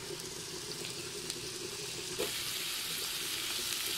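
Mushrooms frying in a pan on top of caramelized onions, a steady soft sizzle with faint crackle throughout and a brief clatter midway as they are added.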